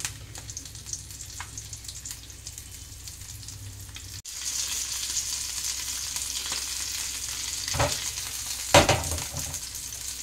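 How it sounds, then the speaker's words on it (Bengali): Parshe fish coated in semolina fries slowly in oil over a low flame, a steady close sizzle that grows a little louder midway, with a couple of brief crackling bursts and a soft clatter. "একদম গ্যাস লো ফ্লেমে দিয়ে ধীরে ধীরে ভাজতে হবে, একটু টাইম লাগবে।"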